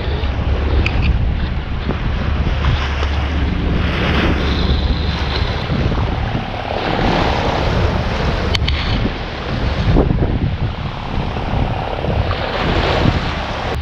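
Steady wind of about 7 knots roars across the microphone while waves slosh and rush against a sailboat motoring off the Hebrides, a loud, continuous wash with no talking.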